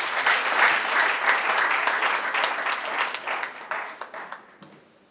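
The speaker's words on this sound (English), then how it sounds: "Can we give him a round of applause?" An audience at a training-programme closing ceremony applauds an arriving dignitary, with many hands clapping at once in a lively burst that gradually breaks into scattered individual claps before fading away.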